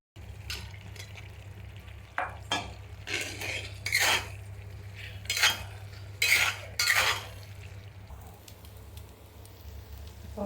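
Fried arbi pieces go into an oily gravy in a pan and are stirred, with a series of clattering spoon scrapes and knocks against the pan over a quiet low hum.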